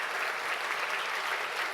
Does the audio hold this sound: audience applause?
yes